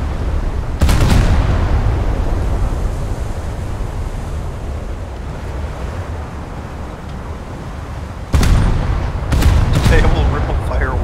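A ship blows up during a naval battle video game while guns fire, giving loud, dense booming bursts: one long rumbling blast, then a cluster of heavy explosions near the end.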